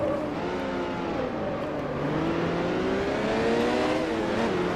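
A sports car engine in the racing game Grand Prix Legends drones loudly through a power slide out of a left-hand corner, its pitch wavering and climbing as it accelerates, with no talk.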